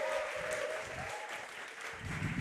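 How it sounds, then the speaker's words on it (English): Audience at a VCT Pacific 2023 esports stage event applauds a guest, a steady wash of dense clapping from a large crowd throughout the short stretch. "let's go ahead and give a round of applause for Jake Sin."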